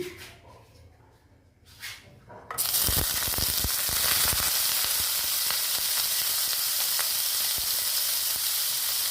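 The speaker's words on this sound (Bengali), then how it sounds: "তেলটা প্রায় গরম হয়ে গেছে। এখন আমি দেখো মাছটা দিয়ে দিচ্ছি।" Dried Loitta fish (Bombay duck) dropped into hot oil: after a couple of seconds of quiet, a loud, steady sizzle erupts and continues dense and close, with occasional crackles and pops.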